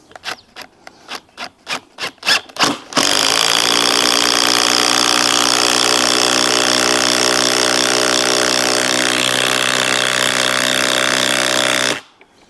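Bosch cordless power tool on a 6 amp hour battery, a few short bursts, then a loud, steady, harsh whirring run of about nine seconds that cuts off abruptly.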